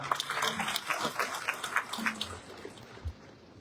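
Conference attendees at the official opening of the Invest Zambia International Conference 2025 applaud speaker Barrick Umwana, a fairly faint patter of clapping that thins out and fades by the end.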